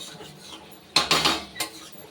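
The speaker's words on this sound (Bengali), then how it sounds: "সেটা আবারও একটা থালা দিয়ে ঢাকা দিয়ে দিচ্ছি" A metal plate is set down as a lid over a pot of mutton curry, a sharp clattering clank followed by a second lighter clink against a quiet background, close and alone.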